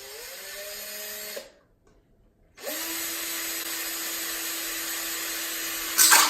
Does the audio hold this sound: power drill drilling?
yes